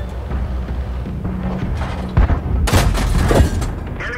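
Tank cannons fire in the World of Tanks video game, with heavy booming shots and crackling blasts stacked over a low rumbling engine drone, loud bursts clustered in the second half.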